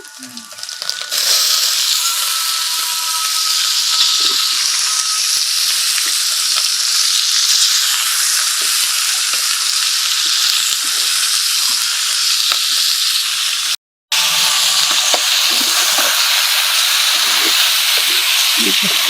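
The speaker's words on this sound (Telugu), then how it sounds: "లివర్లు గుండెకాయలు దాంట్లో వేస్తున్నా." Chicken livers and gizzards fry in a pan with a loud, steady sizzle and hiss that carries on without a break, broken only by one brief dropout, with occasional faint stirring.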